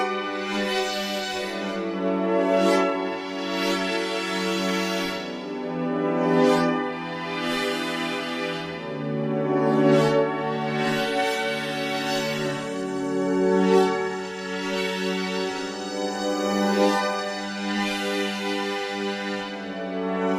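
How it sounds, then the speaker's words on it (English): A Korg Opsix synthesizer plays sustained chords with filter FM, giving a swirling, shifting motion to the tone as it swells and fades in slow waves, with no voice over it. "you've also got filter FM, which you can give you some fabulous motion to the sound"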